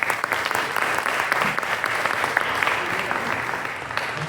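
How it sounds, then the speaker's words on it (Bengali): A crowd at a Bengali student association's cultural welcome event for new students at UMass keeps up steady, dense clapping throughout, with no speech over it. "ওর জন্য একটা আমরা বড় করে করতালি দিই।"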